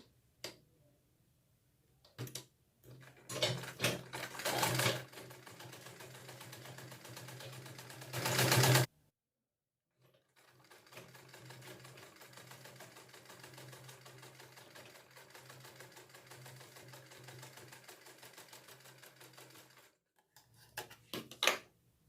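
A sewing machine stitches a kurti collar in several runs: a short burst, a louder rapid stretch that stops abruptly, then a long steady whir after a pause, with faint handling clicks between.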